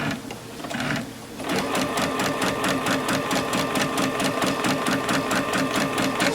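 A sewing machine stitches dress fabric, first in a brief start-and-stop, then in a fast, even, loud run of needle strokes with a whirring motor underneath.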